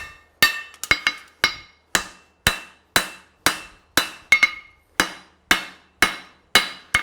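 A farrier's hammer strikes hot steel on an anvil while forging a hind preventer horseshoe with a heel cork, about fourteen sharp, ringing blows at a steady rhythm, some in quick doubles, each ringing briefly before the next.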